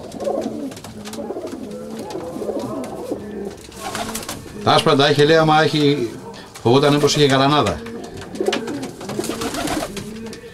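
Pigeons at a loft in Vrontou coo in loud, rounded bursts that rise over continuous nearby talk, with two stronger cooing phrases standing out.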